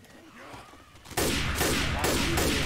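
A burst of video game gunshots erupts suddenly after a quieter lead-in, loud rapid shots repeating in quick succession with brief gaps between volleys.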